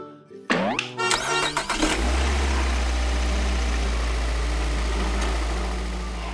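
A transforming toy robot race car plays an electronic engine start with a few sputtering revs, then settles into a loud, steady idling rumble that slowly fades.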